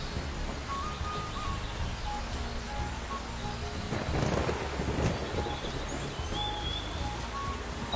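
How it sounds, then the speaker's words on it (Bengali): Heavy rain pours in a Bengali cartoon, a steady, dense wash of hiss that holds throughout and swells briefly near the middle, with no voices. "আজ এত বৃষ্টি হচ্ছে"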